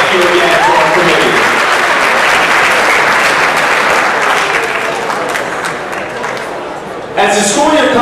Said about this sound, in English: Once again, a round of applause for our Director Scholarship winners